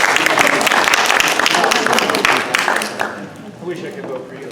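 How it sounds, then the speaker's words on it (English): A small audience at a Santa Clara County candidate and ballot measure forum breaks into applause that starts full and dense, then thins and fades out toward the end. "Can we clap?"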